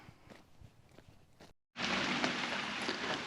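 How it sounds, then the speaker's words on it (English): Soft patter at first, a brief silence, then a steady loud hiss of rain falling close by. "it started raining"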